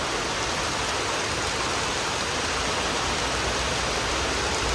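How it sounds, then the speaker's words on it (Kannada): Heavy rain pours down outdoors in a dense, unbroken hiss that stays loud and even throughout, with no voices. "ಇಲ್ಲಿ ನೋಡ್ರಿ ಧೂ ಧೂ ಧೂ ಧೂ ಅಂತ ಮಳೆ ಬರೋದ್ರಿ"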